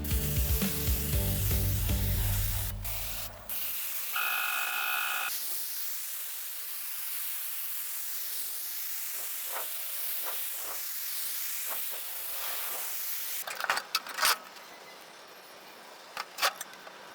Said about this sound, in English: I sprayed several thin coats with steady gun movement.